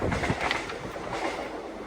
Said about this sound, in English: you've just heard a Morecambe train